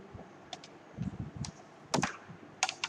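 Computer keys are pressed one after another on a keyboard, a scattering of close, quiet clicks and taps with a few louder clustered presses, no voices over them.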